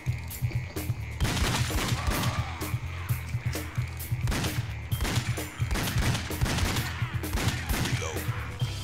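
Rapid gunshots from a light-gun shooting video game crackle in dense, repeated bursts across the whole stretch, loud and continuous, with no talking over them.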